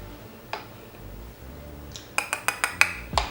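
Makeup powder tapped into a compact lid: a quick run of five or six light, crisp clicks and taps, close by, after a near-silent stretch, with no talking.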